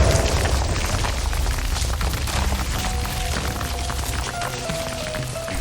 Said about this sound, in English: And eventually, the explosion happens.